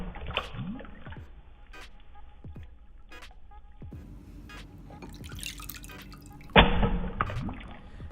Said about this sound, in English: Let's drop the phone into water a few more times before we come to the conclusion.